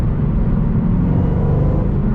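A 2014 Ford Mustang GT500 on stock exhaust under acceleration inside the cabin, a loud, deep, continuous engine rumble and drone dominating the low end.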